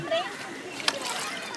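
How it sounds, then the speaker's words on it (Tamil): Water splashes up beside a moving ride near Aliyar Dam; soft sloshing and one sharp splash sound under children's voices and chatter. "தண்ணி தெரிச்சிட்டு போகுது."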